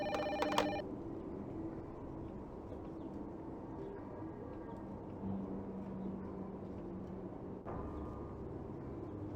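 Telephone ringing in the Urban Runner video game, a short burst of ringing right at the start over a steady low background hum, with a faint click near the end.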